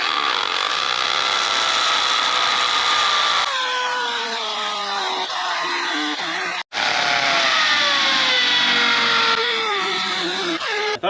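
A power drill bores into a concrete pad while a new cattle scale is bolted down, giving a loud sustained whine with shifting pitch that briefly stops and then starts up again.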